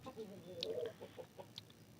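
Chickens cluck softly nearby in short, irregular bursts, with a few higher squawks mixed in against a low background hum.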